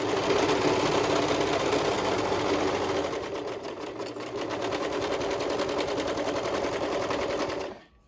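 A domestic serger sewing machine runs steadily for about eight seconds, a loud continuous whirring buzz with rapid stitching rattle while trimming fabric to a clean edge, then stops abruptly; no one talks.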